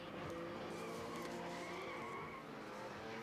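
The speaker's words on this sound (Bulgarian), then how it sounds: "Веселин Стойчев от Долни Чифлик с Nissan 200S Hicks с дизелов двигател с мощност 171 конски сили" A Nissan 200SX drift car with a 171-horsepower diesel engine skids at a drift event in Varna, tires squealing continuously with engine roar, loud and sustained throughout.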